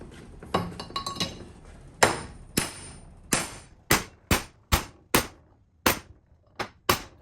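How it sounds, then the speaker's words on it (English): Sharp metallic hammer blows drive a piece of pipe onto a Toyota R150F manual transmission shaft, about a dozen ringing clanks, irregular at first and then a steadier rhythm, close and distinct with brief decays between strikes. "So I prefer to just use the hammer and a piece of pipe."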